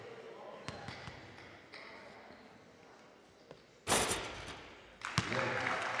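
Basketball strikes the rim with a loud, sharp thud during a girls' high school game, followed by a second impact and the echoing noise of a gym crowd, with faint commentary underneath.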